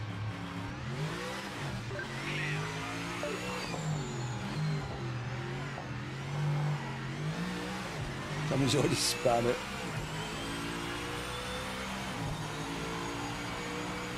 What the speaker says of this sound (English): Can you hear the engine?